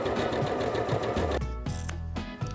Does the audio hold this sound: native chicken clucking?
no